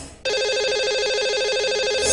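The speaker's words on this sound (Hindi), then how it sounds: "तो लगाते हैं इन्हें कॉल।" Telephone ringtone on a radio show as the host dials a lucky caller; after a brief quiet moment, a loud, steady electronic ring with a warbling tone sounds close and continuous.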